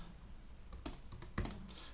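Soft typing on a computer keyboard at a Linux command line, a few faint scattered keystrokes with a couple of sharper taps, heard alone.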